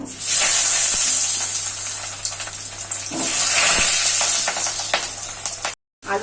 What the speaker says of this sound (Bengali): তেলটা গরম হলে আলুগুলো ভেজে নেব গরম হয়ে গেছে এখন আমি আলুগুলো ছেড়ে দিচ্ছি